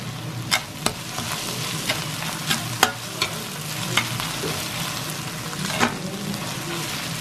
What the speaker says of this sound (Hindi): हमारा प्याज भुन गया